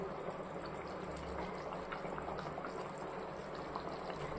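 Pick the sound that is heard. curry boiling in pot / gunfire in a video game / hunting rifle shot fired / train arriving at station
curry boiling in pot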